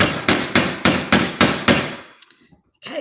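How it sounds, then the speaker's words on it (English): A hammer drives a nail to start a pilot hole in six or seven sharp, evenly spaced blows up close, followed by a few lighter taps and a brief clatter. "we're going to use our hammer and nail to make our pilot hole"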